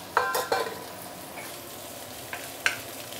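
Roast pork tipped into leeks frying in a pan: two quick clattering scrapes and a couple of later clicks of a utensil over a soft, steady sizzle, fairly close.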